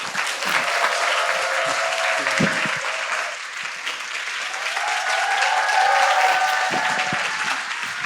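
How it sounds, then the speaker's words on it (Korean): A lecture audience gives a big round of applause to welcome a speaker. The dense, loud clapping runs the whole time, dips briefly midway, then swells again, with faint crowd voices mixed in. "우리 큰 박수로 김창옥 교수님을 환영해 주시기 바랍니다"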